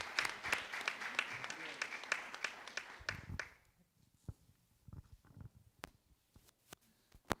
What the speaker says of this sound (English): So big round of applause for Shannon.